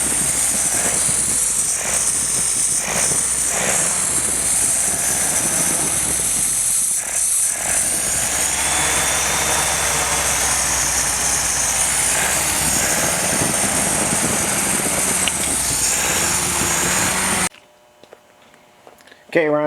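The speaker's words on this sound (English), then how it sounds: "Ron, kind of tough filming and getting this engine broken in" A Willys L134 engine running during its break-in, a continuous loud mechanical drone with knocking and whirring that holds steady before cutting off abruptly near the end.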